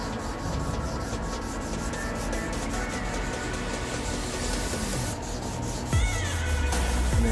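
A yellowed plastic car headlight is sanded by hand with a sandpaper polishing pad, a close, continuous rasping scrub in quick back-and-forth strokes, with a brief shift in tone near the end.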